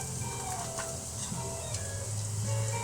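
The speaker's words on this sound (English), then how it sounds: "when I put these onions in, I want to hear sizzle" Onions sizzling in a hot pan for a roast chicken dinner: a steady, close crackling hiss with faint pops, continuous throughout and without talk.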